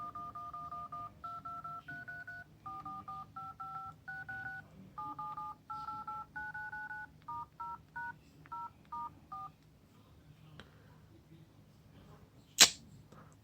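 Nokia 6 phone dialer keypad tones: a steady sequence of short two-note beeps, one per key press, quiet and close, followed by a couple of faint taps and a sharp click near the end.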